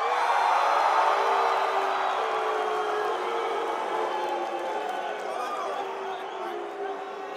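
Convention crowd at a World of Warcraft: Warlords of Draenor trailer presentation cheering for the Alliance, a loud dense roar of cheers and whoops that slowly fades over several seconds.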